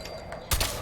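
A combat shotgun from Fallout 4, fitted with incendiary slugs and a scope, fires a single loud, close blast that booms and then tails off briefly.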